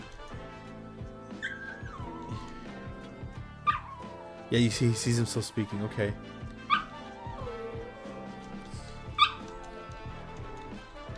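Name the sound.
dog barking and whimpering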